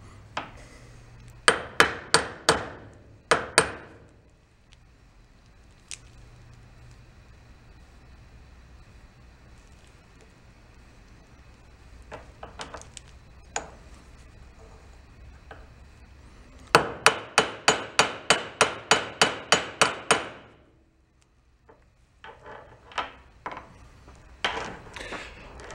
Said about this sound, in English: I'm probably just gonna try tapping it with a hammer